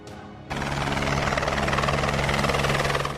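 A helicopter over a flood-hit relief area in Uttarakhand's Morí block cuts in abruptly with a loud, steady rotor throb and turbine whine that holds close and constant for about three seconds.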